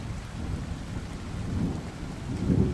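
Steady rain falls with low rolling thunder swelling in the background, heavier rumbles building near the end, with no voices.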